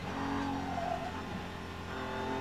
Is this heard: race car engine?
yes